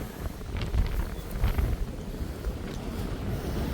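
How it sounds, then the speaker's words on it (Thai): Strong wind gusts buffet the microphone at a high hilltop campsite in the Wind Hills Valley on Khao Yai Thiang, a rumbling, uneven low roar that rises and falls in bursts, with no voices. "ลมมาทางด้านหลังนี้นะครับ"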